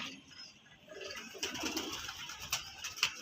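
A flock of pigeons kept in a home loft coos softly and steadily nearby, low throaty calls rising slightly toward the end amid faint rustling.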